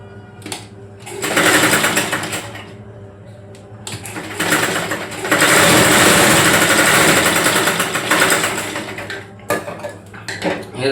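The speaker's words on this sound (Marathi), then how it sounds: "मागच्या बाजू आपण टक्स आखून घेतले आहेत, त्याचा टक्स आपण शिवून घेऊया पहिला." Sewing machine stitching tucks on a garment, with bursts of loud, rapid mechanical chatter separated by brief pauses and small clicks of fabric handling.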